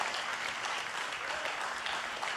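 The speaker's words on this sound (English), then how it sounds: "Can we give God a round of applause for our pastors?" A church congregation applauds for its pastors, a soft, continuous wash of many hands clapping heard at a distance at low volume, with no distinct voices standing out.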